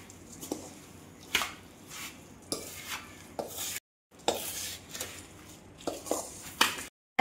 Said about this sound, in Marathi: थोडासा मसाला वर खाली करून घेऊ